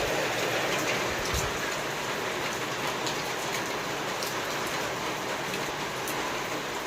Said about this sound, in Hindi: बिन मौसम बरसात रोज रोज एकदम पानी गिर से